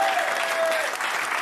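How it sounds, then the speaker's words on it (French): Studio audience applauding a guest on a French TV show, a steady, dense wash of clapping that holds at an even level throughout with no voices on top. "Applaudissements pour lui."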